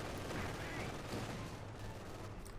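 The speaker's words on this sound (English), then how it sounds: "Heavy autocannon fire and cracked machine gun fire, tearing into the retreating Soviets." Heavy autocannon bursts and cracking machine gun fire in a Company of Heroes 2 battle, a dense, continuous wall of gunfire with no break across the whole stretch, mixed with game sound.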